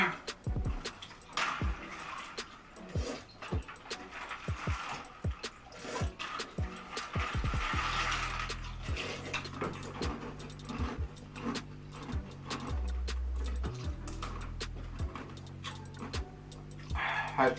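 A bowl of ice is crunched and chewed in sharp, repeated bites during an ice-eating challenge, close up, with cold-drink sipping and faint murmurs between crunches.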